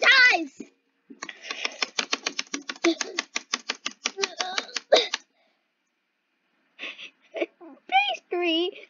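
Keyboard spacebar spammed in a rapid run of about twenty sharp, evenly spaced clicks, close and fairly loud, with a short voice before it and brief high-pitched voices after a pause.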